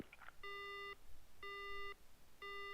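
A dead phone line in Death Mark gives three identical electronic tones, each about half a second long and evenly spaced, clear against a quiet background.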